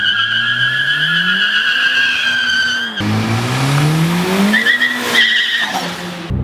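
A turbocharged 1.4-liter Chevy Cruze running 30 pounds of boost drives hard, its engine note rising and falling in loud sustained sweeps, with a brief break and tire squeal or turbo whistle layered on top.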